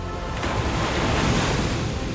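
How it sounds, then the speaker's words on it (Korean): Ocean surf and strong wind roar continuously along the rocky cliff coast at the Quobba blowholes in Western Australia, a loud, dense wash with gusts buffeting the microphone. "이곳은 바위 절벽이 있는 해안가인데요. 거센 바람과 파도가 있는 곳으로 유명합니다."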